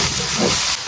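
Doubanjiang bean paste stir-frying in hot oil in a wok, giving a loud, dense hiss and sizzle that holds steady, then drops off sharply near the end. No voices are heard.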